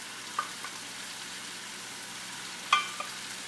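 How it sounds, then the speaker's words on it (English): Vegan beefless tips stir-frying in a pan, with a soft steady sizzle and two brief scraping stirs, heard close with no talk. "So I'm going to stir fry"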